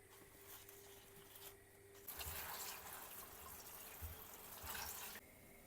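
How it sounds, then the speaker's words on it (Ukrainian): A faucet runs into a sink, with water splashing over spinach held under the stream; the flow grows louder midway, then drops back. "Мию шпінат."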